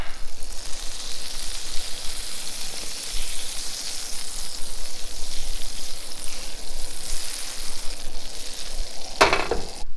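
Butter sizzles in a hot pan on a propane stove at a Hawaii campsite, a constant close crackling hiss with a brief sharp clatter near the end, no talking.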